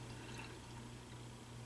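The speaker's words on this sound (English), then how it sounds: "I just pour in about a cup of liquid" Grape juice pours steadily into a chia seed drink, a soft continuous liquid stream with a low hum underneath, close and fairly quiet throughout.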